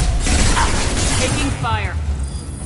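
A mechanical shutter grinds and ratchets open in the video game Mass Effect 2, a steady clanking rumble lasting a few seconds beneath overlapping voices and background game noise.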